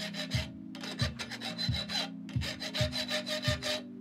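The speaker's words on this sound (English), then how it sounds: "I wanna just make a bunch of cuts in it with the hacksaw" Hacksaw cutting a series of grooves into a plastic rod, steady back-and-forth rasping strokes repeating about every two-thirds of a second, close and clear with no talk.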